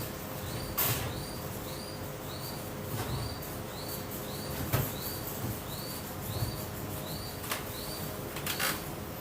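A bird lets out repeated short, high screeches at a steady rhythm, somewhat distant, with occasional sharp clicks and rustles around it.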